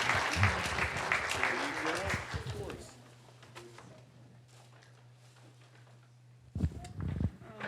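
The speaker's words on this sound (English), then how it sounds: "Let's give a round of applause" Applause from the audience at a school board business meeting, a dense patter of clapping for the first three seconds, then a lull with a low steady hum, and a short renewed burst of clapping near the end.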